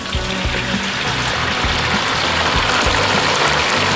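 Hot roasting pork skin sprinkled with water gives a loud, continuous crackling sizzle, dense hiss broken by irregular low pops and spits that go on without pause.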